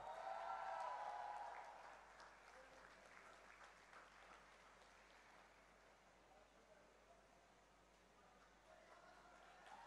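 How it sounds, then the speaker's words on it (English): An audience at a large kudo martial arts tournament bursts into applause, loud at first and then settling into softer, distant clapping that carries on under a hall-like murmur. "Let the atmosphere be roared with claps."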